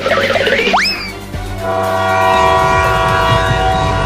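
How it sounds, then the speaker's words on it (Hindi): A cartoon train pulls away from a station, sounding a loud rising horn blast, then the steady rumble and clatter of the cars picking up speed, with a sustained tonal whistle layered over the moving train. "अरे देखो ट्रेन चलने लगा।"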